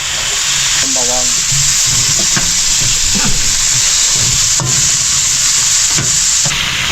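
Garlic frying in a pan, a loud, close sizzle with scraping stirring noises throughout, while voices talk faintly in the background.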